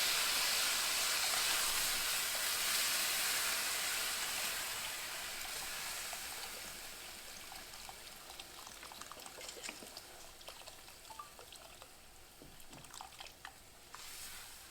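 Chicken stock pours steadily into a pot with a broad, hissing splash that gradually quiets into scattered drips and light sizzling.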